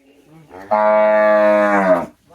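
A cow in a Konkan village farmyard lets out a single loud, close, sustained moo of under two seconds, with faint background voices before it.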